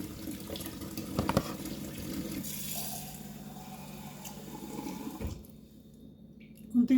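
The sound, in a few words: a little water poured into cooking pot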